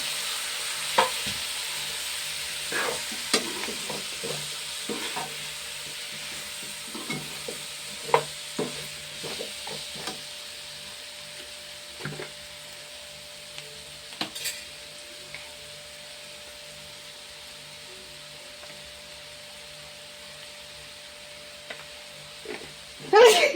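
Pieces fry in a pan with a low, continuous sizzle, while a spoon scrapes and clinks against the metal in scattered stirring strokes.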